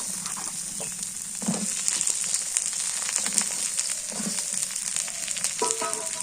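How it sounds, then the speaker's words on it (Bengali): Sliced pointed gourd (potol) hits hot oil in a pan with green chillies, giving a loud, continuous sizzle broken by occasional scraping and stirring clatter. "ভাজা হয়ে গেছে এবার দিয়ে দিই পটল"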